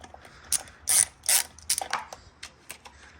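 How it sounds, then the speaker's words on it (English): A ratchet wrench loosens bolts on the carburetor of a Mercury 50hp four-stroke outboard, giving several close, sharp bursts of clicking pawl action over about three seconds with no talking. "Next we got to remove these two bolts here to make sure that those are unscrewed."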